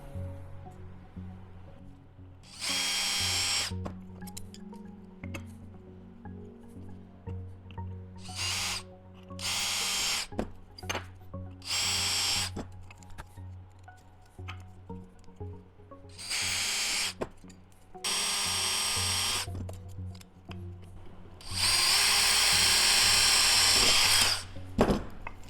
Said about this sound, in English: And I'm going to drill these out.